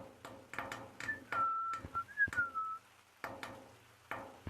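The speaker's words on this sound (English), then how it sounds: "stop whistling for a second" A person whistles a short, wavering melody of a few sliding notes in a quiet indoor setting, fairly close, interrupted by soft knocks and handling noises.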